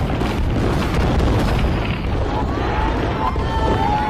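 Fireworks booming continuously during a Las Vegas demolition event, a dense, loud rumble of overlapping bursts and crackles with no pauses.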